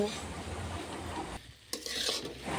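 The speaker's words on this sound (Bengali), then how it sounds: "এই যে কড়াই বারবার নাড়ানোটা না আমার স্বভাব" Potatoes fry in a wok while a spatula stirs them, making a quiet continuous sizzle broken by a short lull and a few faint scraping clinks against the pan.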